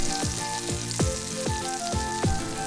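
Pork pieces fry in a pan for sweet and sour pork, a dense close sizzle with several rhythmic swooshing strokes and scrapes about every half second, no voices.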